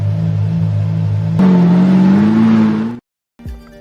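A luxury car in a film drives off, its engine rising from a steady low hum into a louder, climbing rev for a couple of seconds before cutting out abruptly, followed by a brief faint rumble.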